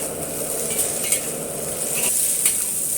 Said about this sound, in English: Stir fry swiftly and keep flipping the rice so that each rice grain will contact the hot surface in a split second.